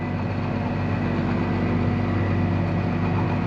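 A tractor engine idles steadily with a low, continuous rumble and drone, loud and close, unchanging throughout with no talk.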